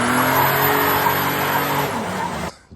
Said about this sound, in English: daily driving it, doing burnouts